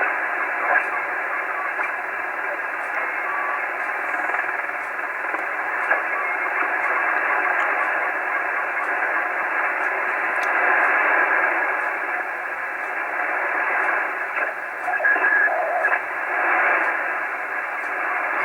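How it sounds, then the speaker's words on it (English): Steady hiss and crackly static from an Icom 730 ham radio receiving on 80 meters through an indoor antenna, a continuous loud band of noise with faint fluctuations and no voices. "Indoor antenna got a lot more noise."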